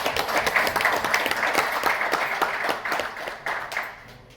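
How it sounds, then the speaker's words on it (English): Applause from a forum audience for the panelists at a Loeries Kenya creativity event, a steady patter of many hands clapping at moderate loudness that gradually thins and fades out. "An applause for the panelists today."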